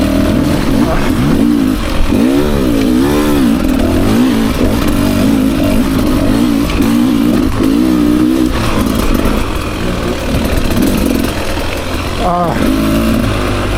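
A Beta 300 RR Race Edition dirt bike engine revs and surges close by on single track, rising and falling in loud repeated bursts through the whole stretch.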